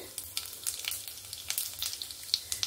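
Cumin seeds crackle and pop in hot mustard oil in a pan, a steady close sizzle dotted with sharp little spits throughout, with no voices.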